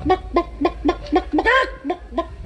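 A hen clucks repeatedly in a steady, close rhythm, with one longer squawking cluck in the middle, over a low background hum.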